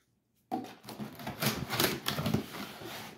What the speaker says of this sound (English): Rip this thing open.